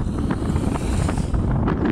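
Wind buffets a phone microphone while riding an electric unicycle on the road, a loud, continuous rumbling roar with gusty surges and no speech.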